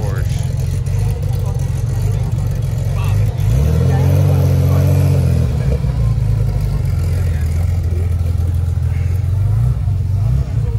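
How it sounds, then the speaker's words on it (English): Porsche engine at a loud car meet, giving a steady deep rumble that swells into a throaty rev and then settles back to idle. It stays close and loud throughout. "Nice Porsche."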